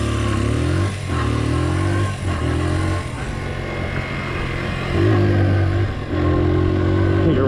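A 1983 Honda XL100 motorcycle engine revs loudly and steadily up close, pulsing with throttle blips and shifting pitch as the bike rides off, with a mechanical clatter underneath and no talking.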